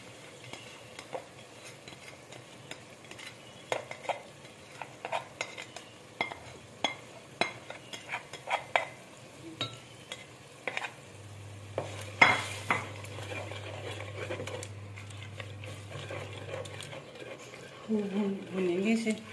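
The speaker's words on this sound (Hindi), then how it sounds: "देखें तो अंडे डाल देंगे पैन को।" Eggs for anda khagina cooking in a pan, with scraping stir strokes and clinks of a utensil against the pan over a low sizzle, a steady hum joining partway and louder clatter near the end.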